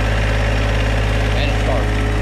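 A John Deere 1025R compact tractor's engine runs after being started by jumping power straight to the starter terminal, a loud steady close-up idle with a rhythmic diesel chug throughout.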